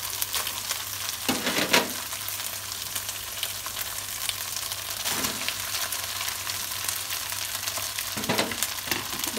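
Cooked rice stir-fried with sardines in a hot pan for nasi goreng sarden, a steady close sizzle with occasional scraping stirs, no talking.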